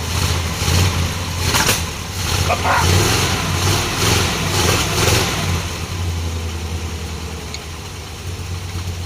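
A 1979 Chrysler Cordoba 300 V8 runs steadily nearby with an uneven, misfiring idle and a few brief rising revs, its low rumble continuous for the whole stretch.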